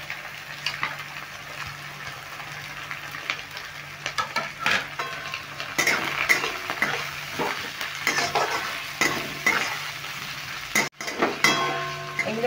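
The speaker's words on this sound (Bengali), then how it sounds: "এগুলো একটু নেড়ে ভেজে নিলাম।" Sliced cucumber and chopped green chilies stir-fried for chicken pasta: a close, lively sizzle with frequent metal spatula scrapes and clinks against the pan, uninterrupted by speech.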